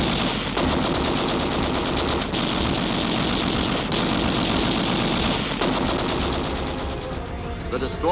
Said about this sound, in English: Immediately, a torrent of gunfire is turned on the crippled sub.